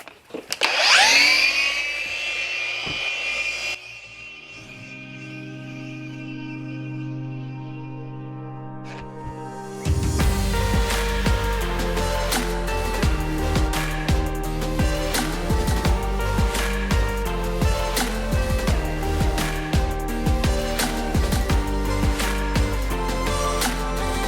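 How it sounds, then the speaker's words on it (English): A machine polisher applying sealant or wax to a car panel during an exterior detail whirs loudly and steadily for the second half, after quieter mechanical tones and a brief start-up. "So when you machine apply a sealant, a wax, it can go very quickly."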